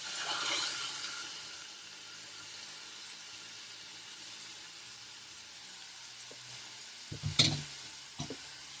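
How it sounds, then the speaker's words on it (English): Washed rice frying with onions in a pot, a soft steady sizzle close by with a few clinks and stirring knocks near the end. "So you fry the rice, put all the rice in."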